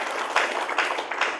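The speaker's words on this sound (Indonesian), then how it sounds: "Tepuk tangan untuk Tuhan" A church congregation applauds during a sermon, a dense, even patter of many hands clapping together, fairly loud and steady without speech over it.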